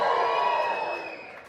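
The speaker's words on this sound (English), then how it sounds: "millennials, give me a cheer." Millennial members of a comedy show audience in Canberra cheer and whoop together, a loud burst of crowd cheering that fades away within a second or so.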